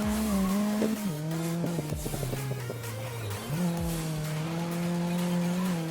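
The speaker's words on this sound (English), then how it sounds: "Yeah, the shift is really loud on this one." An Audi race car in the Grid racing game, with a loud close engine note broken by several sharp gear shifts, each a sudden pitch drop followed by renewed acceleration, and brief tire squeal mixed in.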